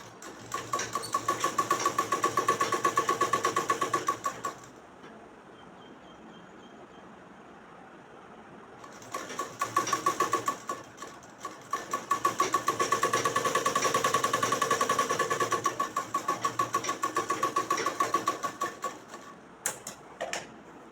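Sewing machine running a stitch along a fabric edge while making an umbrella frock, a fast steady mechanical whir in two long bursts separated by a quieter pause, close and moderately loud.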